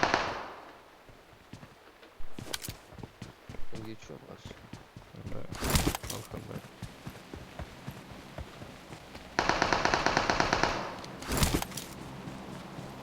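Bursts of gunfire in PUBG Mobile: rapid loud volleys breaking out several times between quieter stretches of footsteps, with someone talking over the action.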